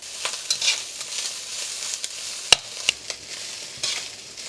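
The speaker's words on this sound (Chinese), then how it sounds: "中火慢慢逼出腊肠和腊肉里面的油。" Chinese sausage and cured pork stir-fry over medium heat in a wok with dried shrimp and scallops, a close sizzling hiss broken by sharp spatula scrapes and clicks.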